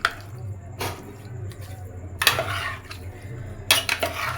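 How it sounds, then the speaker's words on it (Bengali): Food is mixed with spices and oil by hand in a metal bowl, giving faint squishing under a low background hum, with a few sharp clinks of dish and utensil at intervals and no talking. "খুব ভালো করে মশলার সাথে মাখায় নিব"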